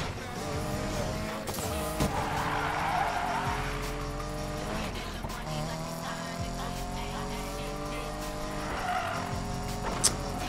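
A car drifting in Need for Speed Payback, with a loud engine roaring and shifting and long tire squeals sweeping up and down throughout, a sharp knock near the end.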